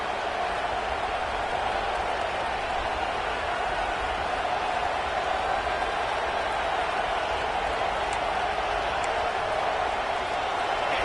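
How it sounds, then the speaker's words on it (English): Sustained roar of a large college football stadium crowd on third down at Alabama's Saban Field, loud and unbroken, a dense wall of cheering noise. "The Tide crowd rolling noise down onto Saban Field on 3rd down."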